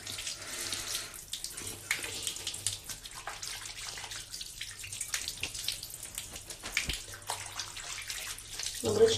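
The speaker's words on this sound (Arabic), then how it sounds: "هاتي غادي نغسل وجهي" A water tap runs steadily into a sink as someone washes their face, a continuous near splashing rush that holds through the whole stretch with small changes as hands move under the stream.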